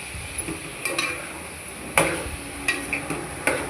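A spoon scraping and knocking against a pan while potato and eggplant curry is mixed with salt, a handful of irregular clinks and scrapes over a soft sizzle.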